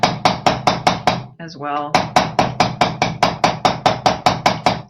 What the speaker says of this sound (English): Now I can do some hammering here